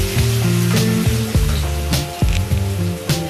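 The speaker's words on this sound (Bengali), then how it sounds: "এই যে সুন্দর ভাজা হয়ে গেছে আলুগুলো" Potato pieces fry in hot oil in a pan for a vegetarian aloo paneer, a loud, steady sizzle with soft scraping bursts as the potatoes are stirred and turned.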